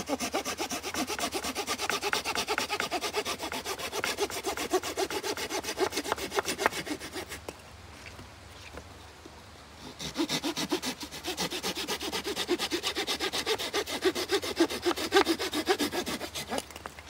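Opinel No. 12 pocket saw cutting through a tree branch about 4–5 cm thick, with steady rhythmic rasping back-and-forth strokes, close and loud, broken by a brief pause midway before the sawing resumes.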